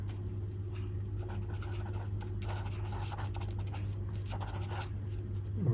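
Writing out a math solution, with faint, intermittent scratching strokes over a steady electrical hum.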